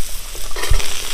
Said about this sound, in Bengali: এবার কড়াইশুঁটিগুলোও দিয়ে দেবো